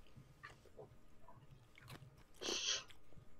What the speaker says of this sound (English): as I'm chewing on some ice, and I'm sure it's making a very lovely sound into the microphone